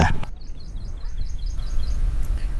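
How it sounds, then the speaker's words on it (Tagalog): Birds singing in a rural Philippine province in the morning, repeated high chirping phrases over a steady low rumble of background noise, fairly faint and a little distant. "Ang sarap ng tunog ng mga ibon."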